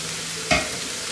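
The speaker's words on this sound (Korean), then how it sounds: "볶아줍니다" Curry ingredients, including sliced shiitake mushrooms, are tossed into a pot with a spoonful of oil over high heat, giving one brief sizzling burst against a faint steady background hiss.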